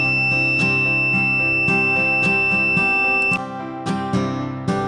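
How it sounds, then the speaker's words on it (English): A multimeter's continuity test beep holds as a steady electronic tone, with a few clicks and taps layered over it. "Please listen to the continuous beep sound and please look at the multimeter screen."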